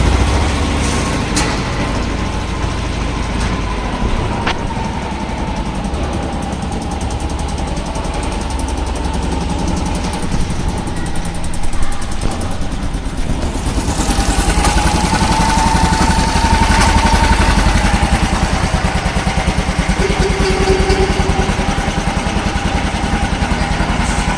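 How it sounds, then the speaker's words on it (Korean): A BMW Isetta 250 Export's small single-cylinder engine runs with a buzzy, motorcycle-like drone, close and loud, holding steady and then swelling as it revs for the rest of the stretch. "모터사이클, 오토바이 소리가 납니다."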